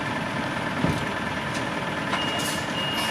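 A truck sounds its reversing beeper during a trailer coupling manoeuvre, a steady repeating tone over the low idle of the heavy engine, with a brief air-brake hiss near the start; no talk.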